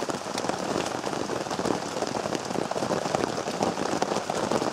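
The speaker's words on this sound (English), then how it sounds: "So it's been raining a good hour now." Heavy rain drums steadily on a surface outside an overnight shelter with a woodstove, a dense, continuous hiss of drops close by with no voices.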